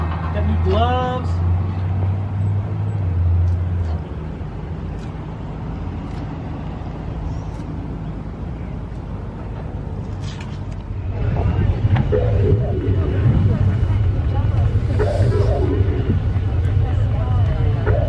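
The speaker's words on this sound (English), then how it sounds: "What's that noise, you ask? The kit car is next to us." A kit car's engine running close by at a car show, a loud continuous rumbling idle that swells louder toward the end, with people talking over it throughout.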